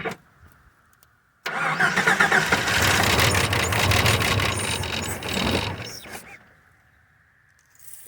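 A 1988 Jeep Wrangler Laredo engine cranks and catches, roaring loudly for about five seconds before cutting out, with quiet before and after.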